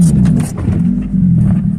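A car engine gives a low, steady rumble close by as the driver drops into first gear. The sound is brief, lasting under two seconds.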